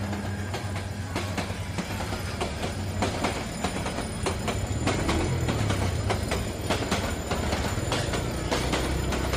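A train rolls past a level crossing at Kulaura, Bangladesh, its wheels clacking in a steady rhythm over a constant loud, close rumble, with no voices.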